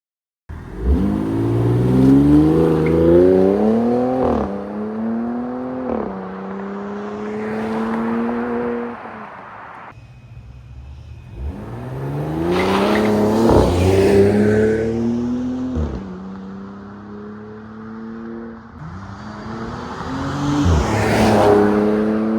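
A RAM 1500 Hurricane truck with a Flowmaster catback exhaust accelerates on a cold expressway. It gives loud, close engine pulls that rise in pitch through repeated gear shifts, with a brief lull between bursts and no talking.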